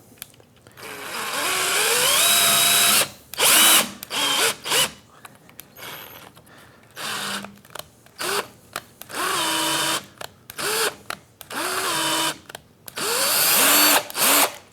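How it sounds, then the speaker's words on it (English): A cordless drill running a 10-32 tap whirs in repeated short bursts, its pitch rising and falling as it starts and stops, loud and close, with no talking. "I'll just run a 1032 tap through this with my cordless drill"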